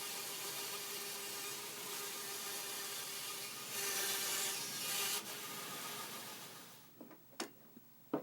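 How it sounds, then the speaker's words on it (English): A bandsaw roughing a glued-up wooden disc into a circle for a 12-inch disc sander, a steady close whine and hiss of blade through wood that runs for about seven seconds before stopping, followed by a few knocks. "Now with my disc ready to go, I rough it out on the bandsaw,"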